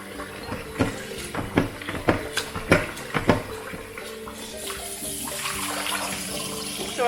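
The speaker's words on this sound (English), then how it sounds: "So another rinse just to take the soap." Hand-dyed yarn is rinsed under running water from a tap, with splashing and wringing pulses in the first half, then a steady close stream of water pouring into a sink.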